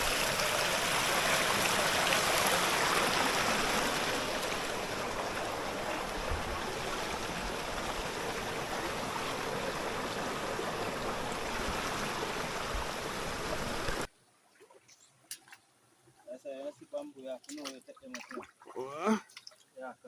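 A Jamaican mountain river flows with a broad, steady rush of water close by, continuous for about fourteen seconds before cutting off, after which a person talks over a quiet background.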